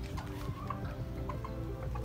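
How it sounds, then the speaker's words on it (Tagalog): Chickens from an inbreeding flock give soft, scattered clucks in the background over a steady low hum, with no one speaking. "Tok Tok Tilaok, sabi ng manok."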